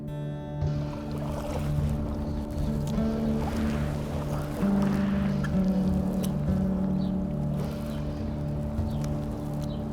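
Paddle strokes from a canoe using a Carlisle paddle slosh and drip in the water, set against a steady low hum with no voices.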